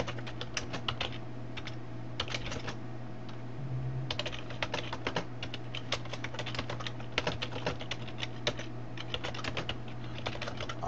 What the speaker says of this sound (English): let's type something out.